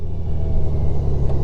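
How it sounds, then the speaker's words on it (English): A Honda Goldwing touring motorcycle rumbles low and steady as it brakes and automatically shifts down, the engine drone close and continuous with no voices. "we'll just tap our brake and the machine will shift down for us"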